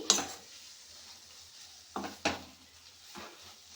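A spoon scrapes and knocks in a pan of chickpea leaf curry cooked with salt and chilli, giving a few sharp taps over a faint, low sizzle in an otherwise quiet kitchen.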